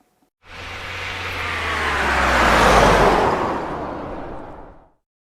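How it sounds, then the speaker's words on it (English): A car drives past, its roar swelling from nothing to a loud peak near the middle and fading away again over about five seconds, alone with no voices. "car"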